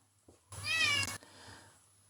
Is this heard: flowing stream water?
no